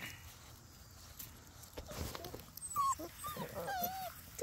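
Puppies whimper and yelp in soft, high-pitched cries that grow louder toward the end, with light pattering movement in the background.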